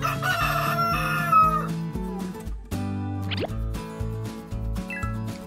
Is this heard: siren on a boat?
no